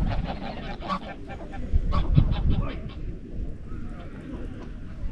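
Geese or similar fowl honk and call repeatedly at close range outside the Clumber Park visitor centre cafe, with flapping movement and a burst of louder activity midway, under faint talk.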